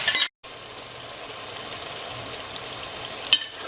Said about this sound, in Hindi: साथ ही हम इसमें प्याज डाल रहे हैं।